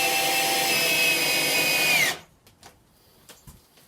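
A cordless drill-driver, a Milwaukee M12 or a Hyper Tough 20V, drives and countersinks a screw into wood with a steady high motor whine for about two seconds, then stops abruptly, leaving a few faint clicks and knocks.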